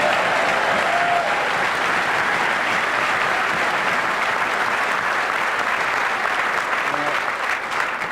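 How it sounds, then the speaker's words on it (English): Loud, dense applause from a big crowd at the 1996 Libertarian Party National Convention fills the whole stretch, steady and unbroken, with a few faint shouts mixed in. "you're going to have to hold your applause"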